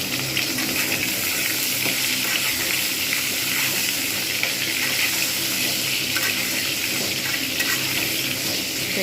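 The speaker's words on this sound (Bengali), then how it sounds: "এবার আমি এর মধ্যে ঝিঙে আর আলুগুলো সব দিয়ে দেবো একসঙ্গেই। এপিট ওপিট করে ভালোভাবে আমি নেড়ে নেব।" Ridge gourd and potato pieces are stirred and turned in hot oil tempered with cumin seeds in a frying pan, giving a steady, continuous close sizzle with faint scraping, no talking.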